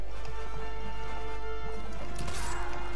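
A horse charges into battle in the video game Mount and Blade Warband, with loud galloping hoofbeats and clashing impact noises over a constant low hum, building toward a sharp crash near the end.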